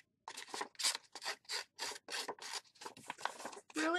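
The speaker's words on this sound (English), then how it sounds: "So I'm just going to go ahead and use my scissors." Scissor blades scrape along a paper card edge to distress it, making about a dozen rapid, raspy strokes in a steady rhythm, close and fairly quiet.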